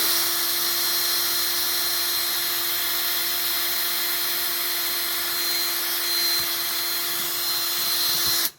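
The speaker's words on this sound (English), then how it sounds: "I'm gonna go ahead and start my drill." A power drill whines steadily at high speed for several seconds, loud and close, then cuts off abruptly at the end.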